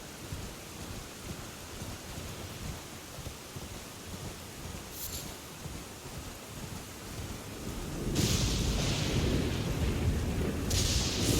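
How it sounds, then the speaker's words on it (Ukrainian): Heavy rain falls steadily in a stormy scene in the video game Elden Ring, a constant hiss that thickens into a louder downpour with rolling thunder near the end. "Таке враження, що дощ, той дощ ніколи не припиняється."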